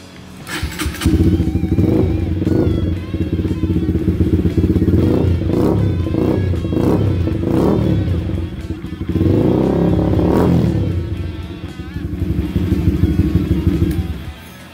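A Honda CB150R Facelift scrambler-style motorcycle revs repeatedly, its engine and exhaust rising and dropping in sharp bursts with a brief lull between blips, loud and close.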